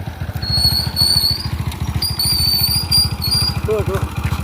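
A motorcycle engine idles close by with a steady, fast low chug throughout, while voices talk over it and short whistle-like tones chirp in the background.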